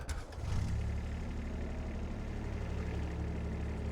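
Kubota tractor engine idling in Farming Simulator 22, a steady low diesel rumble that starts after a brief quiet moment and holds even and close with no talk.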